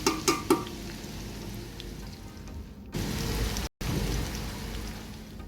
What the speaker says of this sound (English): Stir and let this fry for about 4 to 5 minutes.